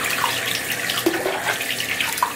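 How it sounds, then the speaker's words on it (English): Makeup brush rinsed under a running tap to flush out soap, a steady close splash and gurgle of flowing water with small shifts as the bristles move through the stream. "just run it in the water and get all that soap out"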